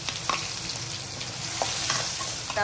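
Garlic chutney and onion hitting hot oil with cumin, mustard seeds and asafoetida, a steady close sizzle with stirring clinks and scrapes throughout, no talk.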